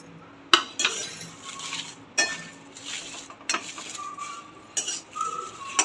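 Bay leaves dry-roasting in a pan for homemade garam masala, stirred with a metal spoon that clinks and scrapes sharply against the pan every second or so, with a soft rustle between strikes.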